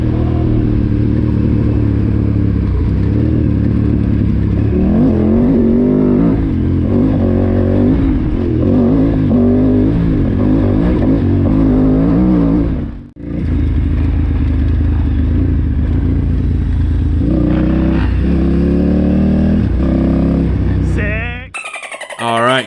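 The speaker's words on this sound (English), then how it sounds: "KTM 990 with that LC8 platform engine, just sounding amazing as always. And this 890 sounds really good too." A KTM 990 with its LC8 twin engine and a KTM 890 idle and rev in the high desert, a loud, close, continuous engine drone that rises and falls, briefly cuts out, then returns.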